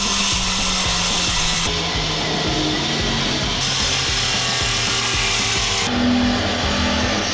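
A handheld saw cutting through wood along marked lines for a dump truck build, a steady back-and-forth rasping stroke repeating close up and fairly loud, with brief pauses between runs and no talk.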